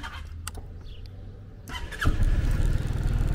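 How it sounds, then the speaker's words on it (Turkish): A 2023 Sym Joymax Z+ scooter is started, a brief starter whir followed by the engine catching at about two seconds and settling into a loud, close, steady idle. "Motoru çalıştıracağım."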